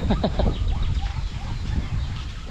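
Farm ducks and other poultry cluck and quack close by in a busy, overlapping jumble of calls with rustling movement, no talk over it.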